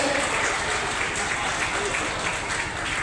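Applause from the crowd at an alumni gathering in Muzaffarpur, Bihar, welcoming a guest onto the stage, a fairly close, even patter of many hands with faint voices mixed in.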